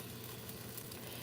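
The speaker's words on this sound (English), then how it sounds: "Now I'm browning my pot roast. I am searing it to get some color on it before I put it in the oven." A beef pot roast sears in vegetable oil in a pot, giving a continuous, close, even sizzle with no talk.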